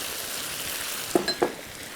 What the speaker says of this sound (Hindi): ताकि उसी के अंदर ये फ्राई भी हो जाए और पक भी जाए।